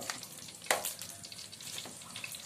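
Fenugreek seeds sizzle in a hot pan over a wood fire, a soft steady frying hiss with one brighter crackling burst early on, faint and heard without talk.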